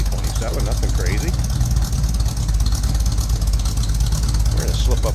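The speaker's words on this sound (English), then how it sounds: "A little rumble coming out of that 327, nothing crazy." A 1959 Chevrolet Apache pickup with a 327 V8 idles with a steady low rumble, close and continuous, alongside faint background noise.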